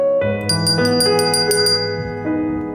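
A bell rings out clearly and alone in a classic Christmas film scene, with bright repeated strikes over a sustained ringing tone and a fresh strike near the end.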